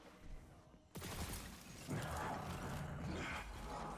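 Glass struck by an enemy's punch in Destiny 2, a sudden sharp shattering crash followed by a second heavy impact and rumbling debris, fairly close and loud against game noise.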